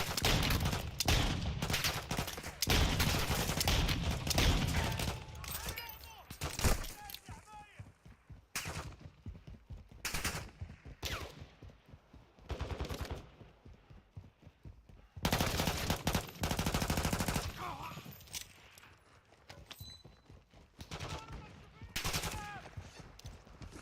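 Gunfire in a tactical shooter video game: loud bursts of rapid automatic fire and single shots come in clusters with brief gaps, mixed with shouted voices calling out.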